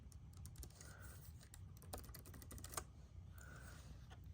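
Typing on an HP Pavilion 15t-eg300 laptop keyboard from 2023, a steady stream of light, soft key taps at close range over a low background hum, with no voices.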